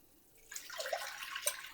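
Water is poured into a cooking pan, a short soft splashing pour that starts quietly and builds briefly before fading.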